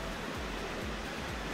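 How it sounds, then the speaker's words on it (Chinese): A waterfall along a hiking trail in Yangmingshan National Park, Taiwan, giving a constant, even rush of falling water that sounds fairly distant and soft, with no voices. "瀑布的声音，然后这边真的很漂亮。"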